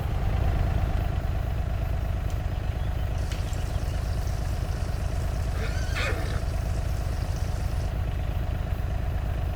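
A horse whinnies once in Farming Simulator 25 over a low, steady engine-like drone, with a few faint clicks scattered before it.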